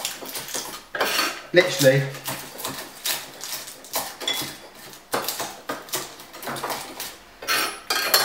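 A knife chopping kaffir lime leaves on a board, producing rapid, fairly loud rhythmic knocks with clattering kitchen sounds, close by, with brief speech.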